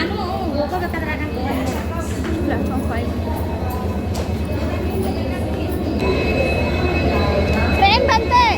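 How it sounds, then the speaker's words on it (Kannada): Hampi Express train pulling into a station platform, a steady loud rumble of wheels and carriages with rhythmic clatter and a brief squeal near the end, under crowd chatter and talk. "ಟ್ರೈನ್ ಬಂತೆ."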